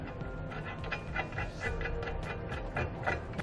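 Steel hardware, two flat washers, a lock washer and a nut, fitted by hand onto a bolt while installing a TorkLift SuperHitch trailer hitch receiver, making a run of small metallic clicks and ratcheting taps at close range.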